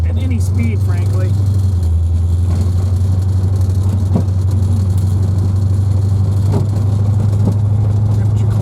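A healthy 5.3 LS V8 swapped into a 1984 Corvette Z51 idles steadily with a deep, even low rumble, running continuously close by with faint ticks and clicks over the drone.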